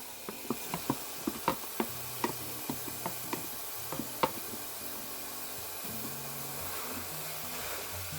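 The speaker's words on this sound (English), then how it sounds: "I'm just going to keep cooking this and breaking it up as I go" Ground beef and Italian sausage cook in a pot over medium-high gas heat, a steady sizzle under repeated clicks and taps of a utensil breaking up the meat, close and moderately loud.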